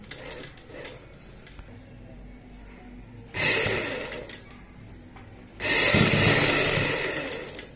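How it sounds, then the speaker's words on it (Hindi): A sewing machine stitches lace onto kurti fabric in two close bursts of steady whirring, the second longer, with quiet handling noises in between. "इस प्रकार से सिलाई लगाएंगे"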